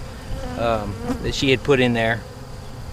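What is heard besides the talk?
honey bees buzzing during a hive inspection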